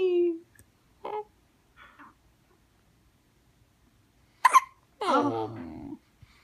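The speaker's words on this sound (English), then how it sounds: "You have the cutest hiccups." A baby hiccups, short soft catches spaced a second or so apart with near silence between them, followed by a brief cooing voice, close and intimate.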